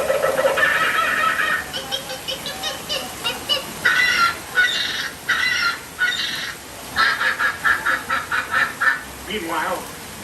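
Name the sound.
frenzy of squawking birds, theme park show effect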